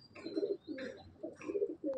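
A male Madrasi pigeon in a loft coos nearby in three separate throaty phrases with short pauses between them, soft but clear and with no voices over it.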